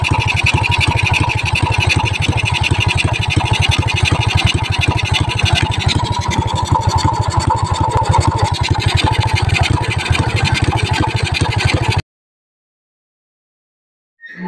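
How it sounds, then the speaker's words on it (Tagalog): A Yamaha STX motorcycle under restoration idles close by with a steady, throbbing mechanical pulse and a slight roughness. It runs continuously for about twelve seconds, then cuts off, and a brief noise follows. "pakita ko sa inyo mga ka-reader yung nagmi-minor na siya"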